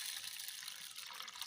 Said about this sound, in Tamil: அதில் தண்ணி ஊற்றி